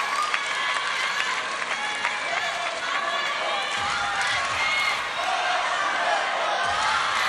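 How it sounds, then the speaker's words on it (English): A crowd at a women's table tennis quarterfinal roars continuously, a loud, dense wash of cheering and applause that swells slightly near the end. A commentator can be heard talking. "I think the roar of the crowd helps too."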